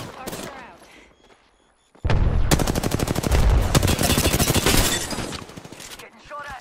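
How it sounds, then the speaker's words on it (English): Video game gunfire in Apex Legends: after a brief voice and a short lull, a loud, rapid automatic burst rattles for about three seconds, then tapers off. "Getting shot at."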